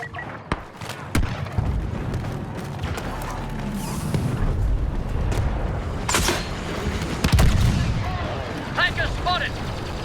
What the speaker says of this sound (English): Heavy fire at the west landing pad!